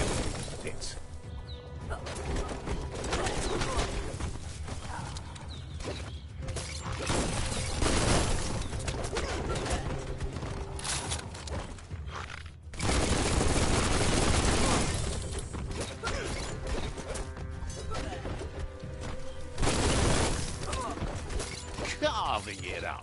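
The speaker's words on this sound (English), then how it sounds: "Bullets everywhere" Rapid bursts of gunfire from the video game Biomutant, a dense, loud barrage with crackling, shattering impacts and mechanical clatter running almost continuously, with a game soundtrack underneath.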